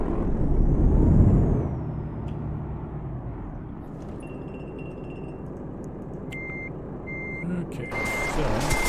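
In Euro Truck Simulator 2, a reversing truck gives off regular, evenly spaced beeps over a low idling engine rumble, with air-brake hiss and clinks near the start and no talk.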